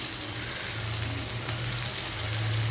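Chillies and tomato sauté in a pan for mutton soup, giving a soft, even sizzle that holds steady from start to finish.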